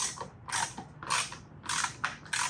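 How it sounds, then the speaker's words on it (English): Ratchet wrench driving a screw into the front license plate mount of a 2016-2019 Lexus RX350 F Sport, heard as four close bursts of quick clicking separated by short pauses. "Once you get some bite on the screw, then you can just ratchet it in."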